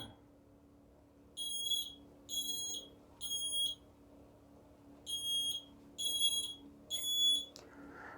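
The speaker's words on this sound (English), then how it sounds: "the smoke alarms operated effectively" A smoke alarm sounds in two groups of three sharp, high-pitched beeps separated by a short pause, loud and clear over a quiet room hum.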